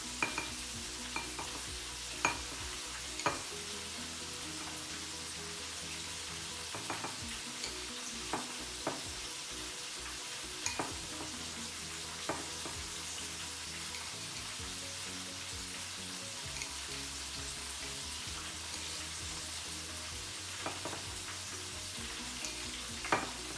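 Egg-coated chicken gizzards frying in a pan at home, a soft continuous sizzle with a few louder crackles and pops scattered through, fairly quiet and close, with no talking.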